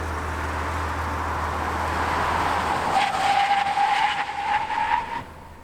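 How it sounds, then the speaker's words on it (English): An SUV braking hard from 60 mph with its tires skidding, a steady rising squeal that holds for a couple of seconds over a broad road rumble, then cuts off as the vehicle comes to a stop. "The SUV stopped in an average of 126 feet."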